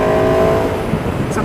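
An Aprilia RSV4 1100 Factory motorcycle with a louder modified exhaust gives a loud, steady engine roar that holds at a constant pitch for the whole moment. No words can be made out.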